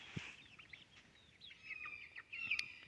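Chickens on a small farm in the woods cluck and chirp softly in short, scattered calls at a moderate distance, with a few brighter peeps near the end.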